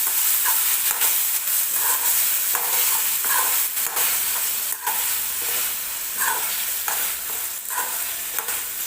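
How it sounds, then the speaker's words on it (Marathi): Cooked chickpeas being stirred into a frying masala with oil separating at the edges, a loud dense sizzle with repeated rhythmic scrapes and spatula knocks, up close and without speech. "आता त्याच्यामध्ये आपण हे शिजवून घेतलेले छोले टाकून घेऊया आणि छान मिक्स करून घेऊया"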